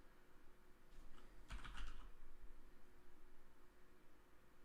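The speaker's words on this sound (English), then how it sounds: "Let me just try typing it in and see what happens." Faint, steady clatter of keys on a computer keyboard, a short burst of typing in a quiet room with no talking.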